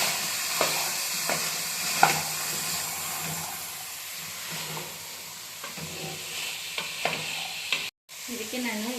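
Vegetables for kurma, including knol-khol, fry in oil in a pan while a spoon scrapes and stirs in repeated strokes over a steady sizzle, close up, with a brief dropout near the end and no talking.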